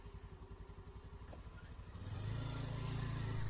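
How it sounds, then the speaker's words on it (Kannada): Vehicle engine turning over with a fast chugging rhythm, then catching and settling into a louder, steady running hum, close by with no talking. "ಕೊನೆಗೂ ಗಾಡಿ ಅಂತೂ ಸ್ಟಾರ್ಟ್ ಆಯಿತು."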